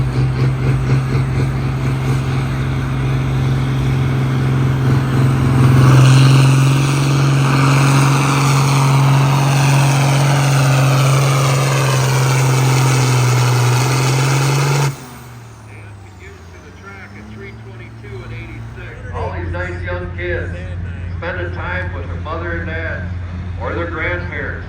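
A Light Limited Super Stock pulling tractor at the Cuba City ECI tractor pull roars loudly and steadily for about fifteen seconds, its engine note rising, then cuts off abruptly, leaving crowd murmur and a commentator talking.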